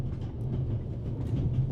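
Steady low rumble of a train carriage rolling along the rails in The Raven Remastered, a continuous droning hum with faint rattles, moderately loud with no voices.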